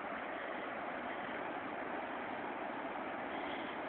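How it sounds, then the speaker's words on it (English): Flood water running through a town in Wenden, Arizona, heard as a constant dense rushing roar, loud and unbroken with no talk. "Can you hear how it's running? That is running flood water."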